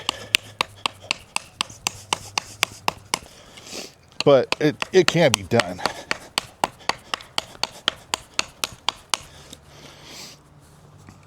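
Steady, rapid strikes of an Al Mar B21 belt knife chop into wood, close and crisp, pausing briefly while someone talks before the rhythmic chopping resumes.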